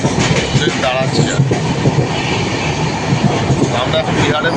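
A passenger train on the run from Kolkata to Benaras, heard from inside the coach as a loud, steady rumble with rhythmic wheel clatter, while people talk under it.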